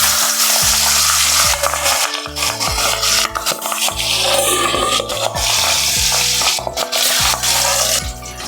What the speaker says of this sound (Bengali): তেল গরম হয়ে গেছে, এবার আমি মাছ ভেজে নেব।